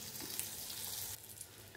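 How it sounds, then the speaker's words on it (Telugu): Spice tempering sizzles in hot oil in a pan, a steady close hiss of frying that eases slightly partway through, with no talk. "పోపు వేగిపోయింది"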